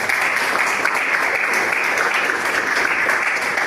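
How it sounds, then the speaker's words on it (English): Audience at a Toastmasters meeting clapping steadily, a dense and sustained round of applause close by with no speech over it. "Let's give you a round of applause."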